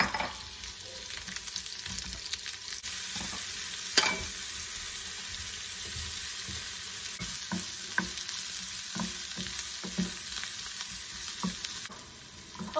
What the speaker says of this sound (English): I'm going to begin by first sauteing our onions.